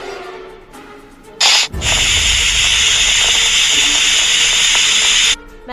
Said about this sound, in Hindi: गैस पर कुकर चढ़ा था।